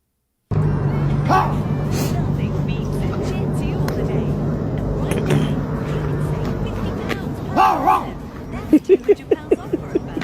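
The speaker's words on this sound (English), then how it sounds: "Hey, stop that barking, man." A dog barks in short repeated bursts near the end, loud and close, after a stretch of background noise and scattered voices from a TikTok compilation.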